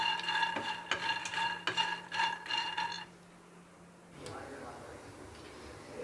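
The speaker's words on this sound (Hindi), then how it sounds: "अभी कढ़ाई गर्म है तो थोड़ा सा चला देती हूँ" Makhana powder being stirred in a hot kadhai, producing a run of rhythmic metallic scraping strokes for about three seconds, then a pause and softer sizzling texture; someone talks over it.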